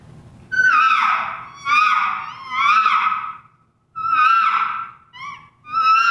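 A diaphragm call imitates an elk cow's estrus buzz in a run of nasal, wavering whines, about five drawn-out calls with brief gaps between them, close and fairly loud.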